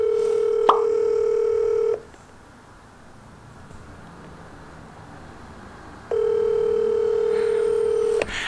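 A phone call rings out through a prank call app: two long, loud steady ringback tones separated by several seconds of near silence.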